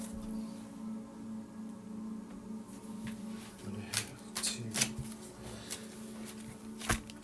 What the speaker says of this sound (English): Just gonna shuffle these things around.